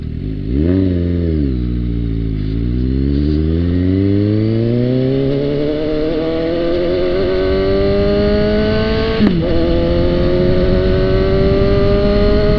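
Close-up Suzuki GSX motorcycle engine accelerating on a patched road, rising through gears with a brief dip and shift, then a long steady climb in pitch and a sharp gear change near the end, loud throughout.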